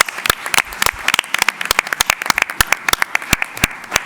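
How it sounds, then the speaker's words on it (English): Applause from a board meeting audience, brisk uneven clapping building into a steady patter that carries on for several seconds. "Let's give her a round of applause."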